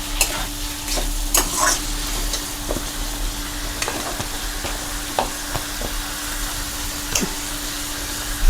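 Vegetable stems and eggplant frying in a pan, a steady close sizzle broken by sharp clatters of a spatula stirring against the metal, with no voices.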